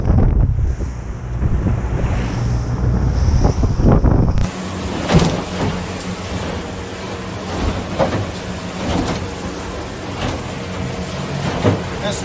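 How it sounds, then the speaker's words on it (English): Strong wind buffets the microphone at the ocean shore near Newport, Oregon, with surf rumbling beneath; the roar is loud and continuous, with a sharp shift in tone partway through and no speech. "This wind sucks."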